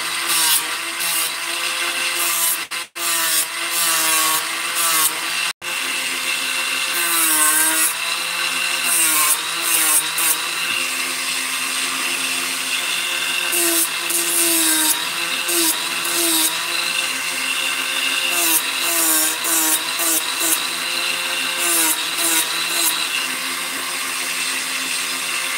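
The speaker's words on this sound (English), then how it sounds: "I do like my pencil Dremel attachment here." A Dremel rotary tool with a pencil attachment works a piece of wood, giving a loud, steady high-pitched whine with a grinding edge that shifts in pitch under load and runs continuously without talk.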